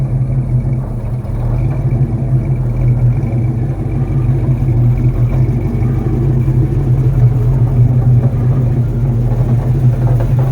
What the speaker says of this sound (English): let me get my daddy's truck moved out the way and get old orange pulled up here